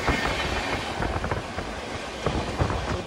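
The Jan Shatabdi Express rumbles at a station platform, a steady broadband roar of the moving train with low thumps and faint clacking of wheels over rail joints, some wind buffeting the microphone.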